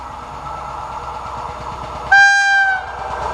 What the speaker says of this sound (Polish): To jest tak zwana podbijarka torowa, proszę Państwa.